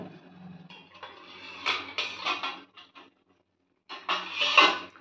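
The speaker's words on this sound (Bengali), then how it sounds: "এবার হালকা করে এটা ঢাকা দিয়ে দেব।" A lid is set on a pan of chilli paneer in a home kitchen, giving a few close metallic clanks and scrapes in two short bursts separated by a moment of silence.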